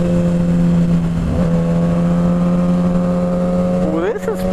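A Corvette is heard while riding on a sportbike in cold fog, a steady loud engine drone with a rising rev near the end, close and continuous, likely with wind noise mixed in.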